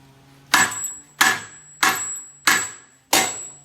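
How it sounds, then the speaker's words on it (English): Five sharp, evenly spaced hammer strikes ring out close up, each with a short metallic ring, as differential bushings are hammered out of an S550 Mustang GT rear end. "I'm gonna continue to hammer it"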